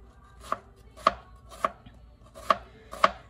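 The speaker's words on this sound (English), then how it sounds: "you're gonna wanna just cut your onions up very thinly" Onions sliced thinly with a knife on a cutting board: five crisp, evenly spaced chops land about half a second apart, close and clear against a quiet room with no talking.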